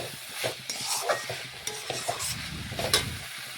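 Vegetables with spices, including bottle gourd stems, stirred and fried in a pan, with steady close sizzling and repeated scraping strokes of a spoon against the pan, no voices.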